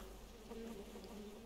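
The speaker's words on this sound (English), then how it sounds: "the bees are just patrolling now." Bees buzz in the video game Rain World as they patrol, a steady low droning hum holding on throughout at fairly quiet level with no talking.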